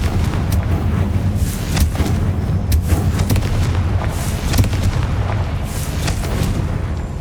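Confringo fire spell explosions in Hogwarts Legacy, a dense run of loud booming blasts and bursts layered over rumbling battle noise, close and continuous with no pauses.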